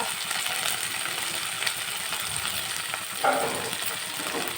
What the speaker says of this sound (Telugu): ఇప్పుడైతే ఇందులోనే వంకాయ టమోటో అన్నీ వేసేస్తున్నాను